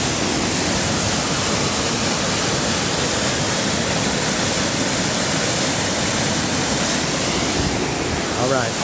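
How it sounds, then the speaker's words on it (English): Rain-swollen creek rushing past a cabin after heavy rainfall, a steady, loud broadband roar of churning water that runs unbroken for the whole stretch, close by and with no voices over it. "I wanted to stop and show you this creek"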